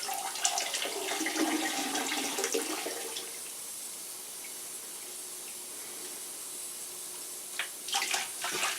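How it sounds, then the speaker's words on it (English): Water splashes and drains as soaked wild fur is squeezed out after a baking soda soak, a close, wet trickling that fades to a quiet hiss before a few more drips and splashes. "Just going to squeeze out some of the excess here."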